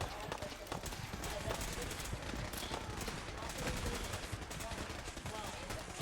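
Rapid gunfire rattles in Fallout 4, dense bursts of shots crackling continuously through a loud, busy mix, with voices talking over it.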